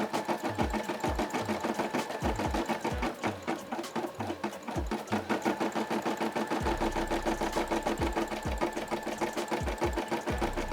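Brother SE600 embroidery machine stitching a Nike check design, a fast, steady mechanical chatter of needle strokes with regular low thumps, loud and close, running without pause and with no talking.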